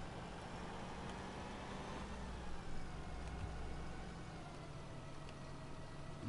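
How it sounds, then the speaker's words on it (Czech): Zetor tractor engine in a tractor simulator video game chugging at a steady, low, quiet drone that holds with little change throughout, with no talking. "Tak teďka slyšíte krásně si náš traktor, jak funí."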